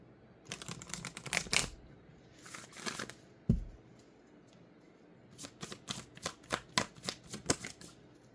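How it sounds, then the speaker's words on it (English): Moonology oracle cards are shuffled close up in quick riffling bursts, a pause with a single soft thump, then a longer run of crisp card flicks. "let's go ahead and pull a Moonology card"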